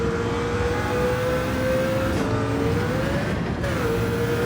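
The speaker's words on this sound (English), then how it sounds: "That was wheel spin that induced that rev out." A 1998 Mercedes CLK LM race car engine revs out from wheel spin at Spa in Gran Turismo 7, a loud, steady high-pitched whine that holds nearly constant with slight pitch dips, close and continuous without talk.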